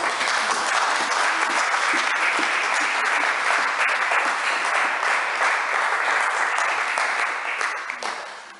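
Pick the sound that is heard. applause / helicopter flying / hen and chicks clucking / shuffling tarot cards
applause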